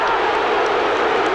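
Stadium crowd at a 1996 college football game between Texas Tech and Kansas State, a dense, loud, sustained roar of many voices reacting after heavy contact on a play, steady throughout with no clear individual words.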